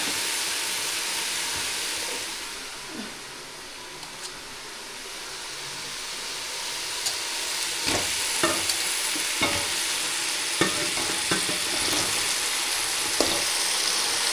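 Chicken stirred into a pan of frying tomato masala for a village-style vegetable chicken curry, a steady low sizzle with occasional sharp scraping strokes of the ladle growing more frequent toward the end, with no talking.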